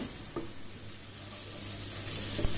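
Onion paste fries in a pan for chicken tikka masala, a soft continuous sizzle with a couple of faint stirring knocks.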